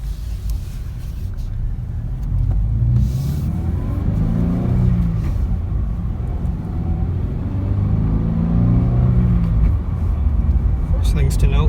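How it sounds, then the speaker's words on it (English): A 2017 Toyota 86 with a small boxer engine accelerating on a test drive, its mid-pitched rumble rising and swelling through gear changes, steady and close from inside the cabin. "it sounds better than I thought it would. It's a small engine. It's a boxer"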